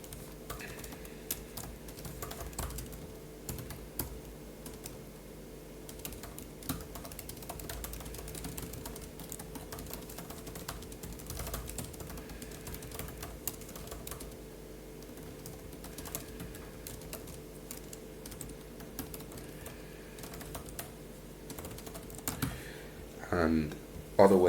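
Steady typing on a computer keyboard while notes are written down, a continuous run of soft, quiet key clicks over a low background hum, with a louder clatter near the end.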